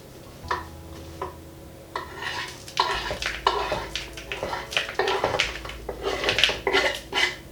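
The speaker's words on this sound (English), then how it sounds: "just take a wooden spoon and just mix them around" A wooden spoon stirs vegan banana oat cookie dough in a mixing bowl, giving soft scraping and knocking strokes in an irregular rhythm, close and fairly quiet over a low steady hum.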